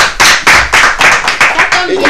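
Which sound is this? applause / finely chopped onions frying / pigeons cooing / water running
applause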